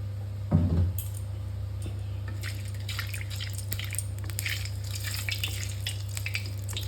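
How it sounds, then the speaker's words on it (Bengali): Oil goes into a kadai (wok) for cooking stem curry: a soft thump from the pour, then a faint, growing crackle of heating oil over a steady low kitchen hum. "তো দিয়ে দিচ্ছি কড়াইতে ডাঁটা চচ্চড়ি রান্নার জন্য তেল।"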